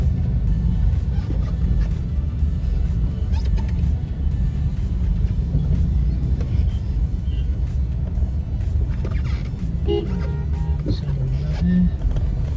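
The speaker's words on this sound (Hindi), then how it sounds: "और आज की ट्रैफिक कंडीशन देखो" Highway traffic streams by in a dense, unbroken rumble of engines and tires, with occasional louder vehicles surging past against the steady roar.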